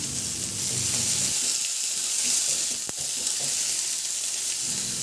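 Garlic and onion sautéing in hot oil in a pan, a steady loud sizzle with a brief stirring clatter near the middle; no talking.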